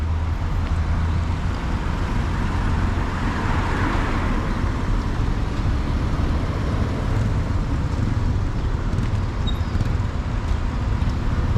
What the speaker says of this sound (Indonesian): Ini adalah terminal bus.